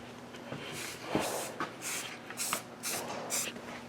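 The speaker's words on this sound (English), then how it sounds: "spray painting his flower" Several short hissing bursts of a spray can, close by, in uneven pulses with brief pauses between them.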